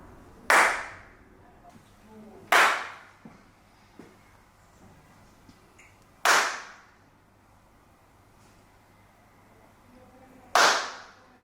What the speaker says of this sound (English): He did a clap again. Now have a listen to what it sounds like with the fit out completed.